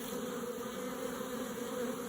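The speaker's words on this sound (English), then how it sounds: "I seen it wasn't going to stop these bees from leaving." Dense, steady buzzing of many honeybees as a swarm leaves its colony in a bee yard, a continuous close insect drone with no talking.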